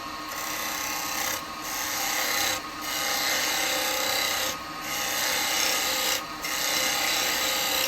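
A 3/8 spindle gouge cutting a laburnum wood bowl on a lathe, a loud continuous rasping shear broken by short regular pauses as the tool lifts off and re-engages.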